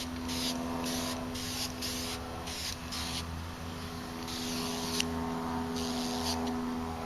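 Cheap Rexley Rhinowisdom airbrush spraying watered-down black acrylic paint during model painting, its nozzle clogging so the hiss comes in uneven spurts, pulsing on and off in a steady close-up spray with a constant low hum beneath.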